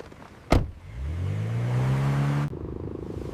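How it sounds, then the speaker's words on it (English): A car engine on a highway revs up from a low rumble into a steady rising drone after a short thump, running smoothly and close by, then drops to a lower idle-like hum. "The car is running perfectly again."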